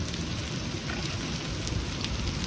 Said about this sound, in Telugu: స్టోన్స్ పడుతున్నాయి చూడండి